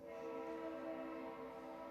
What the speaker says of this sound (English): We can see the train.